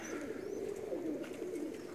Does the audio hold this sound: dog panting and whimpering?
no